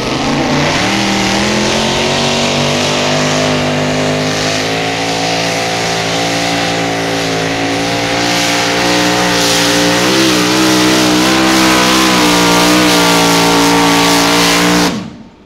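A mini modified tractor at a 2,000 lb tractor pull event in Mound City, Missouri, roars at full throttle in a loud, sustained multi-engine howl that climbs steadily before cutting off abruptly.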